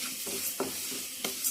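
Spices and rice dry roasting in a pan for sambar powder, with a soft continuous sizzle broken by several distinct scraping strokes of a stirring spoon, close and fairly quiet.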